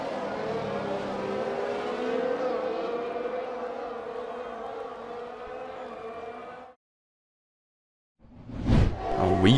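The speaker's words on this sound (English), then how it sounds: "we have Matt in the Merc and Yapsinio here battling it out on the second DRS straight" Race cars in a racing video game run down a DRS straight, their engines giving a loud, sustained rising whine that cuts off abruptly into silence, then a short burst of engine noise returns at the end.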